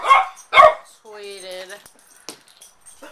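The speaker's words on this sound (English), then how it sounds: "I apologize for my dog that's behind me." A dog behind a man barks sharply twice, then lets out a long whining howl and a few softer yips, all loud and close in an otherwise quiet indoor room.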